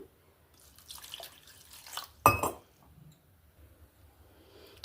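Tamarind is washed in water, with gentle swishing and dribbling sounds, then one brief louder splash midway, all quiet and close with no talk.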